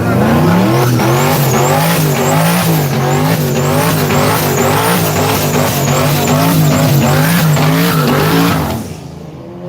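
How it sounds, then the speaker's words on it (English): A turbocharged Ford Mustang does a major burnout at a drag strip, a loud, close, sustained engine wail with warbling pitch and squealing tires before it cuts off abruptly near the end. "Told y'all he was finna do a major burnout."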